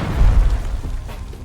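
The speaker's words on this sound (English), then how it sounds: "whenever I lay the C4 on this tree and detonate it" A C4 charge planted on a tree detonates in Black Ops 6, a heavy booming blast with a deep low rumble that rolls and slowly fades over a second and a half, loud and up close with no voices.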